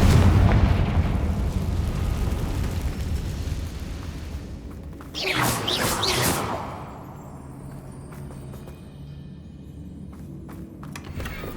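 The Confringo blasting spell in a Hogwarts video game goes off as one loud, roaring explosion burst that fades out, set against a steady rumbling background.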